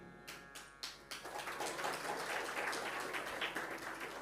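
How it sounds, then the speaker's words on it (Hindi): At a religious discourse, a few scattered claps quickly swell into a crowd's sustained applause, steady and somewhat distant. "ताली वो बजा रहे हैं"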